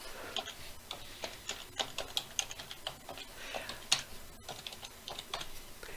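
Quiet, steady typing on a computer keyboard while entering a hyperlink address, with rapid close clicks that come in uneven bursts throughout.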